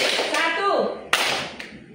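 In a classroom exercise, two sharp hand claps ring out about half a second apart, following a spoken instruction from a teacher's voice.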